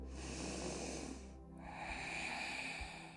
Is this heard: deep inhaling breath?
yes